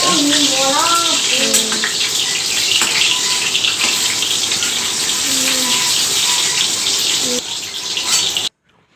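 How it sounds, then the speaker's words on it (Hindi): Water gushes hard from a kitchen tap, splashing loudly and continuously close by, with voices briefly audible at the start before the flow cuts off abruptly near the end. "बहुत तेज छींटा मार रहा है"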